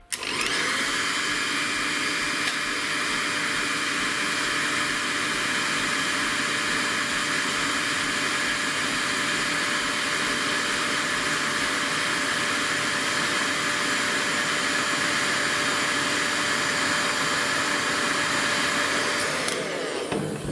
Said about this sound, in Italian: è essenziale riscaldare la plastica della gamba utilizzando il phon